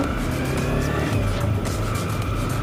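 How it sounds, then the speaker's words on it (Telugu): A 2022 Yamaha R15 V4 motorcycle engine pulls away from a standstill, its loud, close drone building steadily as it accelerates, with no talking. "ఇప్పుడు బైక్ని రైడ్ చేద్దాం. అండ్ స్టార్టింగ్ ఇనిషియల్ పికప్ని చూద్దాం."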